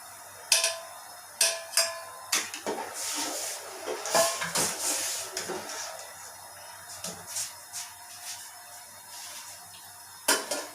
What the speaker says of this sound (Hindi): इसमें अब चावल डालते हैं। ये मैंने आधा किलो पहले भिगो के रखे थे।